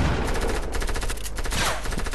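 Rapid automatic gunfire from a Fortnite match rattles out in a loud, dense stream of shots lasting about two seconds.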